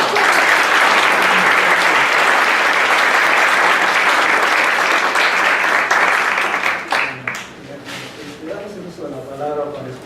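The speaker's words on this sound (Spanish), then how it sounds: "Y creo que nos faltó el aplauso para el doctor Parra." Sustained, dense audience applause fills a book presentation at close range for about seven seconds, then tapers off as a voice begins speaking.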